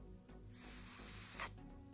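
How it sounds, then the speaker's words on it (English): A sharp, hissing breath is forced out through clenched teeth during a kettlebell press, one steady burst about a second long, close and loud. "The way we breathe out during the press is by squeezing the air out through clenched teeth."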